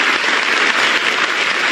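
A room of people gives sustained, dense applause for Rogério Galloro, the new Federal Police chief, a steady wash of clapping with no break and no talk over it.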